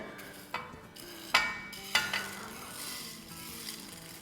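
Whole coriander, fennel, cumin, black pepper and dried fenugreek seeds dry roasting in a pan, a faint steady sizzle with a few sharp scrapes and clinks as they are stirred.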